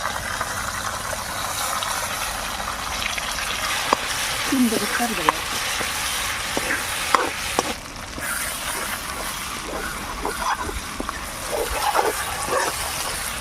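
Cumin, curry leaves, green chilies and onion fry in oil for a village-style egg curry. A steady sizzle sits under scattered stirring clatter, with a dog barking briefly and background noise from the surroundings.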